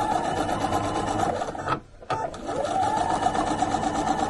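A sewing machine runs steadily, stitching down the center of a strip of tape at a short 2.0 stitch length, with a brief pause near the middle before the close, even whir resumes.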